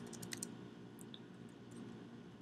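Quiet, close keystrokes on a computer keyboard, with a quick cluster of light clicks at the start and a few scattered taps afterward over a soft background hum.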